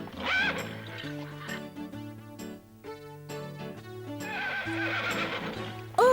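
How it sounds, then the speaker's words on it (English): A horse whinnies in loud, close neighs at the start and again near the end, over a bouncy musical backing with clip-clop hoofbeats, and no one talks. "The other is a horse"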